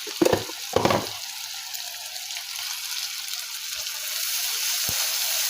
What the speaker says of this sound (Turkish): Ardından salçamızı ekleyelim ve salçamızı da sos kıvamına gelene kadar kavuralım.